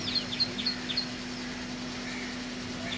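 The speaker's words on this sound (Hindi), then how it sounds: "साथ ही बहुत ही खूबसूरत आवाज़ में परिंदे चहचहा रहे हैं।" Birds chirp in a pomegranate tree, a few quick high tweets clustered near the start and then fainter calls, over a steady low hum.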